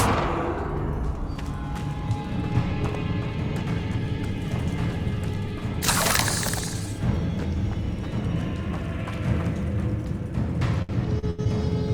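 A Confringo blasting curse explodes in Hogwarts Legacy as a sudden bright burst of blast noise over a steady bed of game ambience and music, then fades back into the background.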